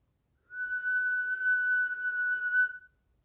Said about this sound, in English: I will practice whistling by drawing air inwards.